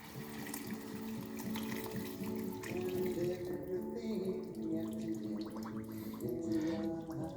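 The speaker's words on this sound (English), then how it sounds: "And then 1 litre of veg stock. Now my jug is rubbish, this is probably going to spill everywhere." Vegetable stock poured from a jug into a pan for a vegan pasta sauce, a steady watery splashing and trickling that runs throughout, fairly close, over a busy kitchen background.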